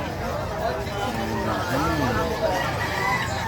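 Chickens clucking and a rooster crowing on a farm with goats, faint and partly buried under people chatting nearby.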